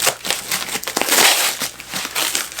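Packaging around a glass jar is torn and crinkled open in quick, close, loud bursts of crackling plastic or paper that rise and fall over a couple of seconds, with no voices.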